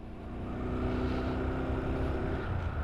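A 2022 Honda Super Cub C125 motorcycle pulling away and accelerating through the gears, its small engine droning steadily and close as it rises in pitch, with no voices.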